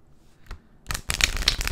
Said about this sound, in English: shuffling the cards as I give you your horoscope